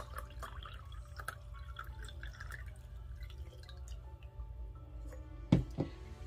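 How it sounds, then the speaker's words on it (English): Liquid hair care mixture, water infused with two scalp-care ingredients, poured back into a container: quiet drips and light trickling, then a brief louder splash near the end, close and alone. "I'll pour it back into this."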